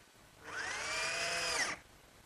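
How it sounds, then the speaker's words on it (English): A power drill drives a one-inch drywall screw into an oak medicine cabinet in a single whining burst of about a second, with the pitch bending slightly as the screw seats, then stops against a quiet room. "And I'll fasten it in place using some 1-inch drywall screws."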